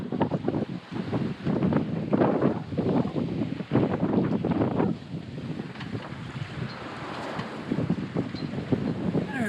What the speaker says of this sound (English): Taking waves over the bow.